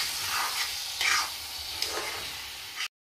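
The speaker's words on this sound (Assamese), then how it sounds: "আপুনি মাংসটো অকণমান তেল ওলোৱালৈকে তাতে ভাজি লোৱাৰ চেষ্টা কৰিব" Chicken pieces, a small local bird, frying in a little oil in a pan, a soft steady sizzle with faint stirring scrapes, quiet and close, no talk, ending abruptly.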